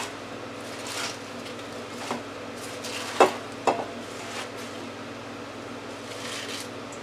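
Cut collard greens drop into a 6-quart pressure cooker, giving soft rustles and a few sharp metallic clinks of the pot close by, with quiet handling between them.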